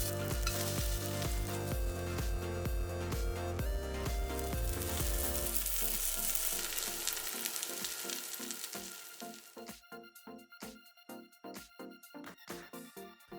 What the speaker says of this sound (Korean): 앞뒤로 노릇하게 지져냈다.